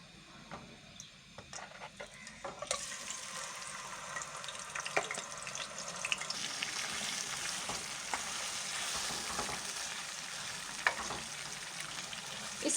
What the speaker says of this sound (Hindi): इसे हम हल्का सा फ्राई करेंगे।